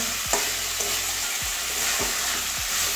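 Katla fish curry masala with papaya being sautéed in a pan, a steady sizzle under repeated scraping stirs of the spatula about every half second, close and clear with no talk.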